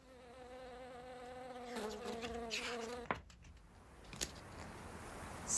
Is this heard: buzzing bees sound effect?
yes